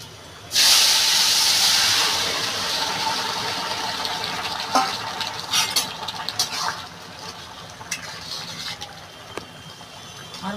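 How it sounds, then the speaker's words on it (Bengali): Bottle gourd and shrimp curry is poured into a hot pan, setting off a loud sudden hiss and sizzle that slowly eases into crackling bubbling, with a few clinks over it. "আমি এবার বন্ধুরা এই তরকারিটা ঢেলে দেবো"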